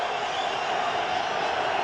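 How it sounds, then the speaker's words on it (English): A stadium crowd roars at a New York Jets home football game against the Denver Broncos, a steady, dense wash of cheering that holds at one level and doesn't break, with faint talk under it. "Here comes the crowd."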